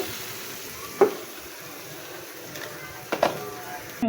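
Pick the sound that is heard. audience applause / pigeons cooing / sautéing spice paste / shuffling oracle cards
sautéing spice paste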